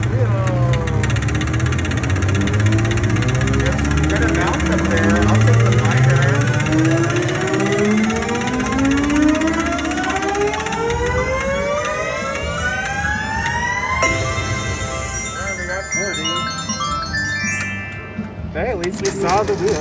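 A Little Shop of Horrors Cash Machine slot machine plays its wheel bonus: loud electronic tones rise in repeated sweeping glissandos over a dense bed of chimes and jingles, ending in a brief lull.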